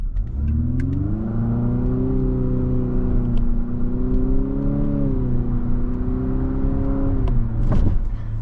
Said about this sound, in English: And there are simulated shifts. Not the quickest, but it is a CVT.